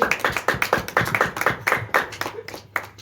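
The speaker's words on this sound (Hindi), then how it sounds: "जोरदार तालियां यसू के जलाल के।" A church congregation claps for Jesus during a Christmas service: dense, rhythmic hand claps repeating steadily for about three seconds, loud and close, with no voices above them.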